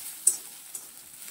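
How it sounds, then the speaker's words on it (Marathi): Sesame and coconut filling is stirred and sautéed in a wok, a faint soft sizzle with a couple of light scraping taps from the spoon over barely a second. "ह्या सारण परतण्यासाठी आपल्याला कमीत कमी 5 मिनिटं लागतात"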